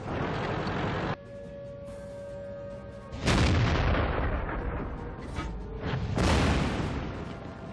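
Tank cannon fire and shell hits in the World of Tanks game, played with an SU-26: three loud, heavy booms that each roll off slowly, evenly spaced a few seconds apart.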